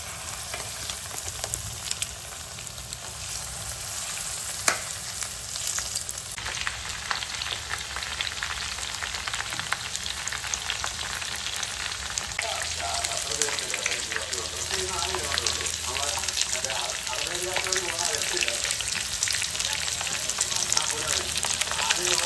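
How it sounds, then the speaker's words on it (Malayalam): Marinated chicken pieces fry in hot oil, giving a dense, continuous sizzle that turns into busier bubbling and popping partway through, close and fairly loud throughout. "നമ്മൾ നെക്സ്റ്റ് എണ്ണ ചൂടാക്കാനായിട്ട് വെച്ച് അതിലേക്ക് നമുക്ക് ഈ മിക്സ് ചെയ്ത് വെച്ച ചിക്കനെ ഫ്രൈ ചെയ്തെടുക്കാനായിട്ട് ഇടാം"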